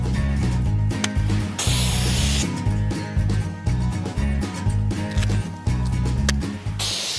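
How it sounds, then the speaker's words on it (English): Bear spray hisses out in repeated forceful bursts, swept in a Z pattern from the bear toward the ground, loud and close, with a steady background hum underneath. "spraying at the bear and down to the ground, creating a wall that the bear essentially runs into"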